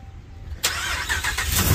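A dump truck's engine cranks and catches, a sudden surge into a steady, loud rumbling run that carries on to the end, heard up close with no voices.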